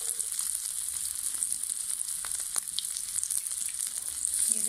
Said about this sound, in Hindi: इसे तवे के ऊपर ही फ्राई कर रहे हैं।